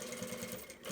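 A sewing machine stitches a fabric face mask with a steady, rapid mechanical chatter, close and fairly quiet, with no voices.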